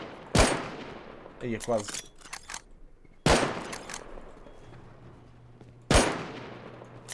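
Gunfire in a multiplayer shooter during a clan fight at a base: three loud, sharp shots ring out with decaying tails a few seconds apart, and a brief voice speaks between them.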